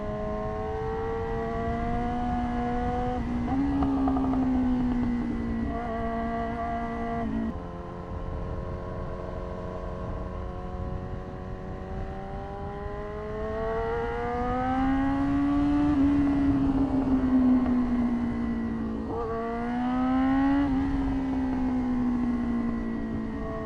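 A Yamaha R6 sport motorcycle ridden through traffic drones with a high-pitched engine whine, rising and falling as it shifts through gears and revs again, steady and close, with no speech.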